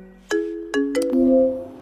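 A mobile phone ringing with an incoming call: a short melodic ringtone of a few clear electronic notes stepping in quick succession, close and alone.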